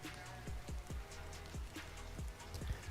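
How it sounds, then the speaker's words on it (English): Rain ambience plays quietly in the background, a soft continuous patter of drops on a surface with occasional heavier plinks, steady and low under an otherwise quiet room. "I turned the rain up just a touch"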